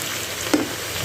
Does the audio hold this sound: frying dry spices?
yes